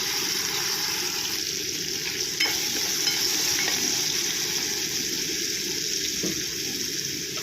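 Onion and tomato sauté with salt in a pan, giving a steady broadband sizzle with occasional stirring scrapes, close and continuous with no talk.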